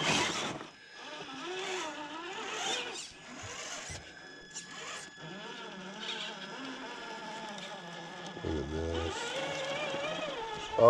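Truck engine working slowly over rocks while maneuvering a new trailer into a parking spot, an uneven wavering rumble rising and falling in pitch with short revs and some rattles.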